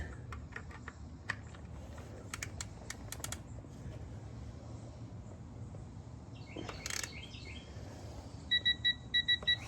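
A torque wrench gives short beeps as it nears its 30 target setting while tightening a 034 transmission mount on an Audi RS5 B9.5, preceded by faint clicks and workshop hum; a quick repeating beep pattern comes in near the end.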